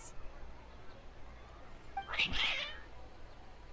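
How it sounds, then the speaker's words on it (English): A cat meows in the video game Genshin Impact, a single short mid-pitched cry heard near and clear over quiet background ambience. "It's just her cat."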